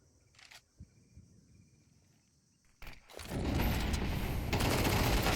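Counter-Strike match sounds with sporadic quiet gunshots at first, then a sudden loud sustained burst of SMG fire and chaotic gunfight noise that carries on to the end.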